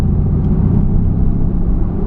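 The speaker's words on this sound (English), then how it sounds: "you can just hear that V8 rumbling at the low revs" A V8 car engine rumbles at low revs, a deep, steady, close throb filling the whole short stretch without talk.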